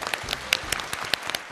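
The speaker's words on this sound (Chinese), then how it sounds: "来点掌声。" A studio audience at a Chinese dating show bursts into lively applause, a dense run of sharp hand claps carrying on steadily throughout.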